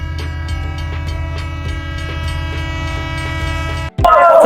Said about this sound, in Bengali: তো গাইস, ট্রেন অলরেডি চলে আসছে